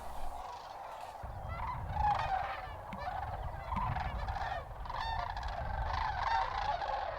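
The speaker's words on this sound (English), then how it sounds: "The cranes sat down on this gravel bar to take a break from their journey." Migrating cranes rest on a river gravel bar, a flock giving continuous overlapping honking and bugling calls at moderate distance over steady outdoor background noise.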